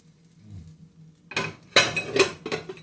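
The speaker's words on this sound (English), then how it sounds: "place the plate on top of the pan" A dinner plate set down on top of an omelet pan on a shut-off stove: after a quiet low hum, a few sharp ceramic-on-metal clinks and clatters ring out up close.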